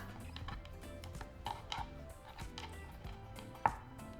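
A knife cuts food into pieces on a cutting board while making Mexican tortilla soup, giving a run of quick, close, rhythmic chops at a steady pace with no talking.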